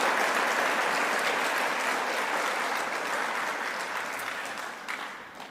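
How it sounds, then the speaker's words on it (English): Awards ceremony audience at the Tasmania Australian of the Year Awards applauds the nominees, a thick, sustained wash of clapping from a large crowd that gradually thins and fades toward the end. "Let's give our nominees another round of applause."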